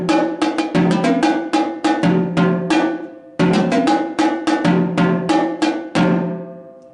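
Quad drums, the pitched multi-drum set of a marching drumline, play a fast, sped-up melodic pattern of crisp tuned strikes, loud and close, in two repeated phrases with a brief gap between.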